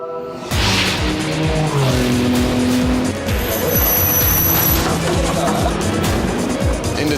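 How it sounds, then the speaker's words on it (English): A race car roars past at speed on a circuit with a loud, close engine and tire noise. Sharp engine pulses and a brief whine run through the pass, with faint commentary underneath. "Benoit Tellier in the number 2 Audi has just come through there"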